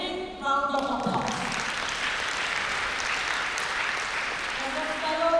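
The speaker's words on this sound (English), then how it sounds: "give yourself a big round of applause" A conference audience at a nursing debate event claps in a sustained, even round of applause, with a voice briefly heard at the start and end.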